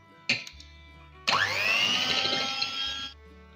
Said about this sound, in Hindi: इसको डालेंगे प्यारे से बाउल में और इनको अच्छी तरह से बीट करेंगे